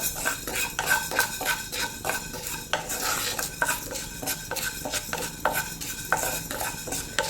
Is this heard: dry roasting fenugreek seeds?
yes